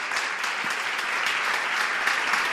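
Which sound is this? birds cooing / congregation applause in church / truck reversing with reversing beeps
congregation applause in church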